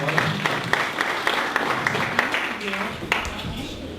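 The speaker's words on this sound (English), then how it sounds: "So if you could please welcome Leslie with a warm round of applause." Audience applause welcoming a guest speaker at a social media marketing talk, a moderate crowd clapping with sharp individual claps standing out, steady for a few seconds with voices murmuring underneath.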